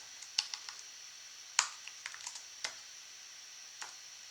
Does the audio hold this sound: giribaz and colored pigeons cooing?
no